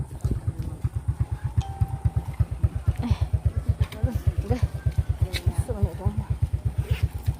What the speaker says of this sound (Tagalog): Kasi yung motor na gamit namin pang travel.